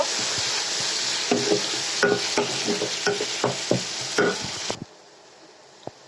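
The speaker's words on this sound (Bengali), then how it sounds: "এখন রসুন দিলাম কাঁচা গন্ধ দেওয়া পর্যন্ত আমি ভেজে নেব" Garlic paste frying in a pan, with a steady sizzle and repeated stirring scrapes and clinks of a spoon, the sizzle cutting off abruptly near the end and leaving near silence.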